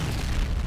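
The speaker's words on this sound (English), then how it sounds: "Goddamn explosion!" A distant explosion in a video game, a brief, heavy low boom with a rumbling tail.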